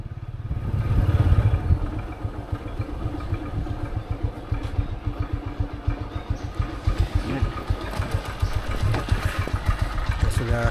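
A motorcycle rides through narrow village alleys in Kudus, its engine a continuous close chugging putter that swells early then settles into a steady rhythmic drone.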